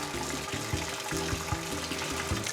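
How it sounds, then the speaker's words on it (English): Hot water from a pot of boiled green beans is dumped out into a sink or strainer, a steady rushing, splashing pour lasting a couple of seconds with a gurgling pulse. "Just dump that water out."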